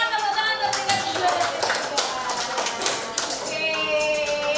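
A classroom group claps for the second-place student, steady close applause mixed with a faint voice for several seconds.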